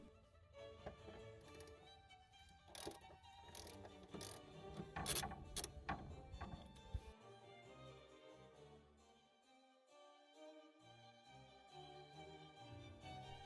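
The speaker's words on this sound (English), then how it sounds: "Then use a 14mm socket to remove the mounting bolt." Socket wrench ratcheting a rusty strut mounting bolt loose on the rear suspension of a 2004 Toyota Corolla, a steady run of quiet clicking that carries on throughout without talk, faint and close.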